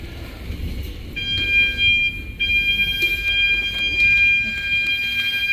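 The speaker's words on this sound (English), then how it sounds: "The beeping sound is because they're cleaning the other one." A revolving door's steady electronic warning beep sounds repeatedly in pulses over a noisy indoor background hum, in Helsinki, Finland, while the neighbouring door is being cleaned.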